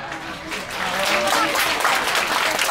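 Audience applause fills a cruise ship event hall, a dense, steady wash of clapping that holds at a consistent level for the whole stretch with no voices standing out.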